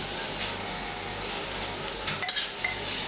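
A spoon scrapes and clinks against a pot of thick beef bourguignon with sautéed mushrooms, a steady stirring texture with a few sharper metallic knocks near the end, heard close with no talk.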